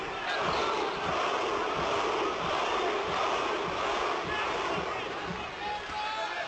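A large Bilbao crowd at a European championship boxing match roars in constant support, with rhythmic chanting and whistles blending into a dense, sustained wall of noise.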